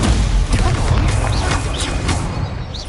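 Incendio fire spell cast in Hogwarts Legacy: a burst of loud booming, crackling impacts and whooshes in quick succession, dense and close, with a faint voice underneath.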